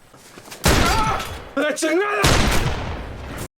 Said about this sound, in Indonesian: Tak lama muncullah tembakan yang berasal dari Ketchum.